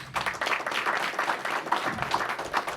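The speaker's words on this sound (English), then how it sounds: "please greet them as well with a round of applause" Ceremony audience applauds in a continuous round of clapping, fairly close and even in level, with no speech over it.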